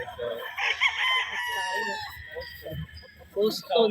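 A stag crows loudly and nearby at a gamefarm, with a long drawn-out call followed by shorter crowing and clucking bursts. Someone talks over parts of it.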